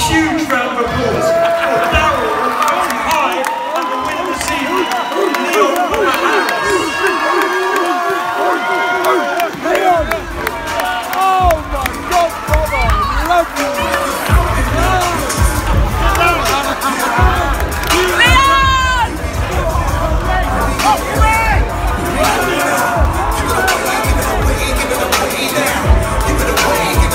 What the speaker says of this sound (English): You get a huge round of applause.